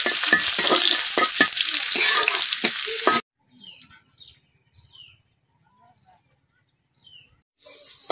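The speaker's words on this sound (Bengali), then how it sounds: "পেঁয়াজটা একটু ভাজা নিলাম।" Onion frying and being stirred in a wok, a loud steady sizzle with spoon scrapes that cuts off abruptly, leaving near silence with a few faint clinks before the sizzle briefly returns.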